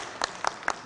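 An audience applauding students in a classroom, three short bursts of clapping in quick succession, fairly close and brief.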